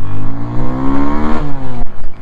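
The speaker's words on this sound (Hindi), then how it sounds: "बाइक फर्स्ट गियर में आ गई" A Yamaha FZ25 motorcycle accelerates hard in first gear, its engine note climbing steadily and loudly up close before a brief dip as the rider shifts.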